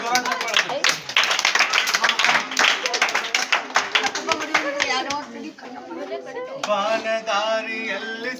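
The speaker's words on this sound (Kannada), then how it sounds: "ನಿಮ್ಮೆಲ್ಲರಿಗೂ ಒಂದು ಜ್ವರ ಚಪ್ಪಾಳೆ" Children clap together at a birthday celebration held in a school for physically handicapped children, a dense, continuous round of applause lasting several seconds, with voices and chatter mixed in and a singing voice rising toward the end.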